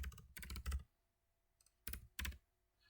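Typing on a computer keyboard: two quick bursts of close key clicks separated by a short pause, fairly quiet and with no one speaking.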